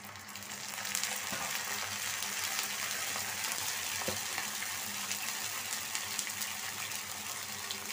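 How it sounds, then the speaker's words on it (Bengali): Water splashed into a hot pan of browned onion and garlic while dried fish (shutki) bhuna cooks, giving a steady loud sizzle and hiss that holds for the full length with no talking. "সামান্য একটু পানি দিব আমি।"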